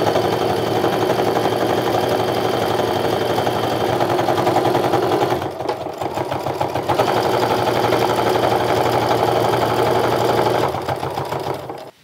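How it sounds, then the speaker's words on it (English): A sewing machine stitching a fabric frame wallet with a 1/8 inch seam, a loud continuous motor whir with rapid needle clatter, a brief pause midway, then stitching again until it stops at the end. "I'm gonna stitch across the top and the bottom with that 1/8 inch seam allowance"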